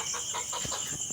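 Native hen clucking in short, repeated bursts while held on a scale, close and fairly loud against a steady background hiss.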